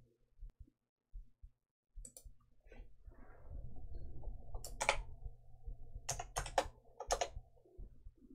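Keystrokes on a computer keyboard while creating a folder on an SD card, a scatter of quick taps and short bursts, moderately close and fairly quiet, with no speech.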